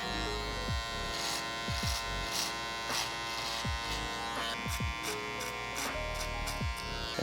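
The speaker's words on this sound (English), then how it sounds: "set in my perimeter, even with the trimmer, so I can see where my taper's exactly gonna be" Electric hair trimmer buzzing steadily and close while cutting a mid taper fade, its hum dipping in a repeated rhythm as the blade passes through hair.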